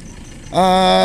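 A 2025 Yamaha Mio Gravis V2 air-cooled scooter engine kicks in about halfway through, a loud, close, steady idle hum that holds evenly to the end after a quieter background start.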